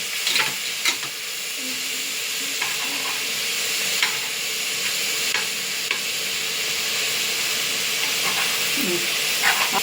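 Tomatoes with rock salt sautéing in a pan for a mushroom biryani, a loud, steady sizzle and hiss close up, punctuated by light stirring scrapes and taps.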